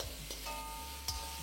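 Shrimp seasoned with salt and pepper frying over a high flame for a fried rice dish, giving a steady close sizzle with a couple of brief stirring scrapes.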